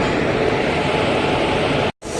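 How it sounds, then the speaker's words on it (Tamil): Vaigai Express train pulls out of Madurai Junction station, a loud, continuous rumble and rail roar that cuts out briefly near the end and then resumes. "மதுரை சந்திப்பு ரயில் நிலையத்திலேருந்து பார்த்தீங்கன்னா வேப் 7ஓட வைகை எக்ஸ்பிரஸ் கிளம்பிருச்சிங்க"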